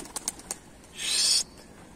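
Kelebek pigeons take off, a short burst of wing flapping lasting about half a second after a few soft taps, close and fairly faint.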